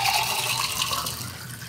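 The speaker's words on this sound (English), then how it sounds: "we're gonna pour the cocktail into this beautiful glass" Tiki cocktail, a Mai Kai Swizzle, poured into a glass: a steady splashing liquid stream, close and moderately loud, running throughout without talk.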